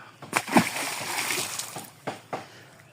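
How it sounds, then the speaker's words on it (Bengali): Live fish splash in a pond after release, with several close, sharp splashes and sloshes in quick succession and a rougher watery wash between them. "এই যে মেম্বার সাহেবের ছেলে এই যে লড়াচড়া করতেছে মাছ, তাজা তাজা মাছগুলি।"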